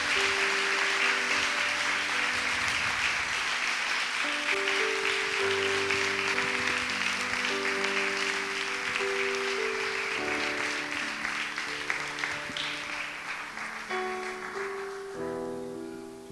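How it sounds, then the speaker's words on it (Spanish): Sustained applause from a congregation at a religious service, a dense continuous wash of clapping that carries on steadily and fades slightly toward the end, with music playing underneath. "Dale un fuerte aplauso al Eterno"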